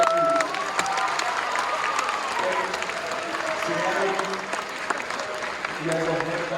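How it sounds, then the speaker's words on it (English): A crowd claps for a speaker named Katie, a moderate wash of applause with scattered cheers, steady across the stretch with voices talking through it. "Let's give Katie one more round of applause"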